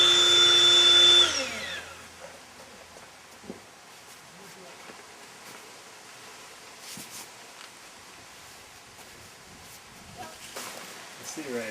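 An electric air mattress pump runs loud and steady for about a second and a half, then winds down and stops, leaving quiet rustling and handling noises.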